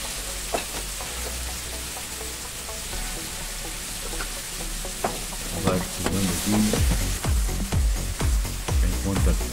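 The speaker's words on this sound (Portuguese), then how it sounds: "Pronto, vai tudo refogando aqui para dar gosto" Diced tomatoes and pork sautéing in a pan for feijoada, a steady close sizzle with stirring scrapes that grow busier and louder in the second half.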